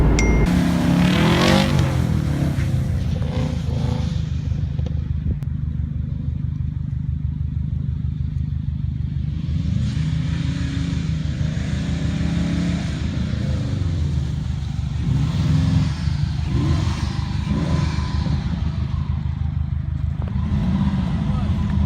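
A Subaru, traction control off, revs and slides through a snowy empty parking lot: a loud engine drone rises and falls with revving surges, with a person talking over it at points.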